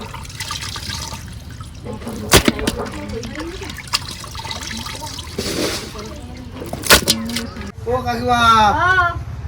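Running water splashes and trickles over fatty goat meat being washed in a basin, with intermittent pours and drips close by while people talk throughout.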